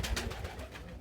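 A pet pigeon coos indoors in soft, low, throaty pulses, close and fairly quiet, with no talking over it.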